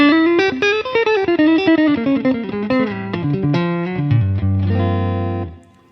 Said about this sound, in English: A basic hall reverb on the H9